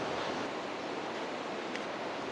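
A valley stream flows over a rocky bed in the countryside, making a steady, close, broadband rush of running water with no voices.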